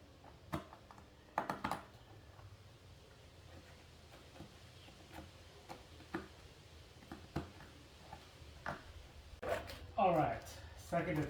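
Plastic flashing is trimmed off a front bumper lip for a 2010 MK5 Volkswagen Jetta, making faint scattered clicks and snips. A louder burst of crackling sounds near the end.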